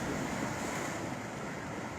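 Canal water roars through a breach in its bank near Lambi in Sri Muktsar Sahib, Punjab, a steady, dense rushing wash that holds loud and close throughout with no voices.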